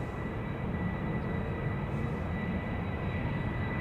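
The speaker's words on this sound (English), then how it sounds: "The mic is picking up the engines of the A330." Airbus A330 jet engines at Amsterdam Schiphol Airport, a steady loud roar with a high thin whine on top and no talking.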